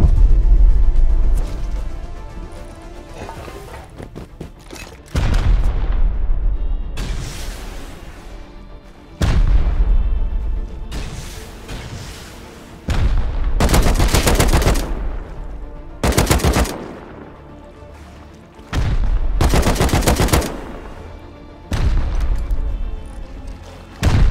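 Heavy gunfire in the survival video game Rust, loud bursts of rapid shots and booming reports coming in repeated volleys separated by short, quieter gaps.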